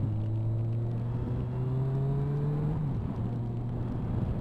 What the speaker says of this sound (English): Got some cars coming round.